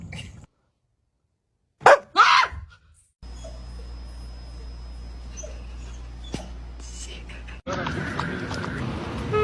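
A dog gives a couple of sharp barks and yelps close by, then a steady hum with a faint background drone.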